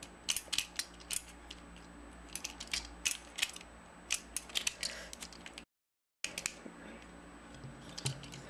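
Plastic clicking and ratcheting as the backpack on a Transformers Ratchet toy figure folds down, a run of sharp close clicks with a short gap before more clicks.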